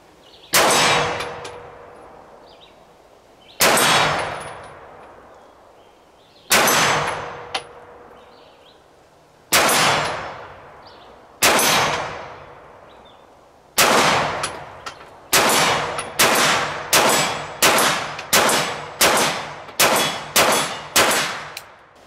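Walther PDP pistol shots ringing off steel targets outdoors, loud sharp reports each followed by a long metallic clang, first spaced a few seconds apart, then in a rapid string of about ten quick shots.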